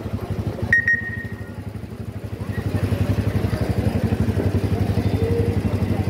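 A motorcycle rides into Nehru Place in Delhi, its engine thumping in a steady, close pulse that grows a little louder as the throttle opens partway through, with a brief beep near the start.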